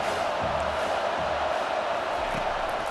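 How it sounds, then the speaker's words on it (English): A stadium crowd in a college football video game roars as a steady, loud wash of distant cheering, continuous throughout with faint low thumps beneath. "This crowd trying to make life miserable for this offense."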